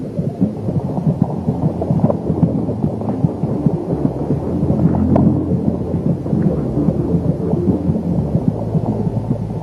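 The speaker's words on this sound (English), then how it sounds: "She will also hear the competing thuds of heartbeats, her own racing at twice the speed of her mother's" Muffled, low heartbeat thuds throb steadily under a deep, constant hum, heartbeats heard from inside the womb.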